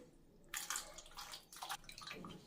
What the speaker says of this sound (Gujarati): અહીં એક કટોરી જેટલું પાણી નાખી દઈશ